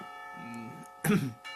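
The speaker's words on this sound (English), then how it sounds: "The lunch bell rings" A school lunch bell rings in the visual novel Katawa Shoujo, a sustained chiming tone over background music with a short loud burst near the end.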